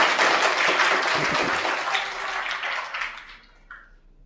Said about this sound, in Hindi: जोरदार तालियों के स्वागत